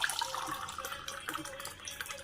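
Homemade juice pours from one container into another, a soft, continuous trickling splash of liquid, fairly quiet and close, with no talking.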